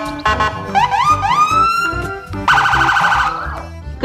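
A toy police car sounds a loud electronic siren, rising whoops switching to a rapid warbling tone, bright and close over faint background noise.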